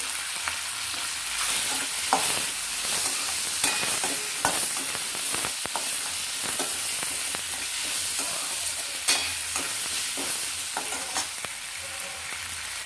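Tomato, ginger and garlic fry and get stirred in a pan for a groundnut potato sambhar, a steady close sizzle broken by frequent scraping stir strokes, with no talking.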